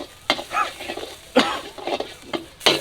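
Spicy chili curry paste for catfish is stir-fried in a hot pan: a loud close sizzle broken by several sharp spatula scrapes and stirring strokes at an uneven rhythm.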